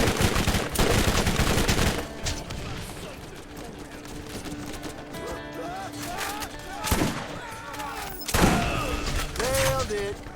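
SMG fire in the video game Borderlands rattles in rapid, loud bursts, mixed with explosions and thuds, and a voice talks over the action between volleys.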